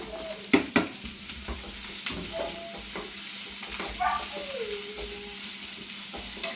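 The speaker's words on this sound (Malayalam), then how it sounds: "സവോള ഇടുവാണേ" Onion frying in a pan for a mushroom roast, a continuous close sizzle with a couple of sharp knocks early on and intermittent utensil scrapes as it is stirred.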